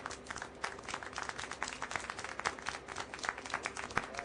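Applause rings out in the video game Syberia: The World Before, a dense patter of many hands clapping steadily for a few seconds at moderate volume, with no voices.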